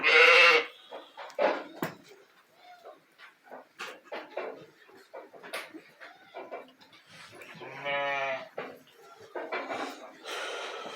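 Sheep and lambs bleat loudly at the start and again later during morning feeding, with wavering cries between scattered rustles and shuffling sounds in an otherwise quiet setting.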